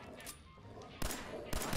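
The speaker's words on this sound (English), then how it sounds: "I'm missing all of these shots" Two sharp, loud gunshots in Fallout 4 VR ring out about half a second apart, each with a short tail, following a stretch of quieter game ambience.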